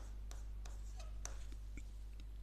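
A pen scratches on paper in short separate strokes while a probability problem is worked out, faint and close over a steady low hum, with no talking.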